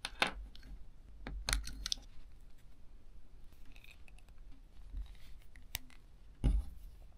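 Small scissors snipping lavalier mic cable parts, a handful of sharp isolated clicks and snips spread over several seconds, close and quiet with faint handling noise between cuts and no talking.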